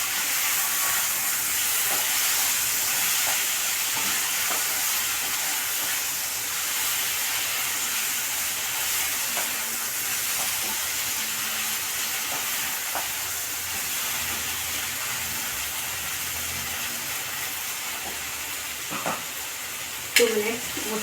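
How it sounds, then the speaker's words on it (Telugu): Soaked tamarind frying in oil for a ridge gourd chutney, a steady, close hiss and sizzle running throughout, with faint occasional stirring clinks and a sharper scrape near the end. "చింతపండు నానబెట్టుకున్నానండి. ఇది కూడా నూనెలో ఫ్రై అవ్వాలి."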